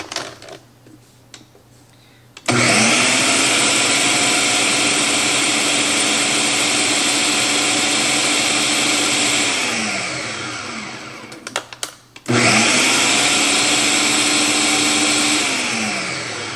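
A kitchen blender whirs loudly while blending hot green tomato salsa, running in two long bursts with a short pause between them, its motor pitch shifting as the contents break down.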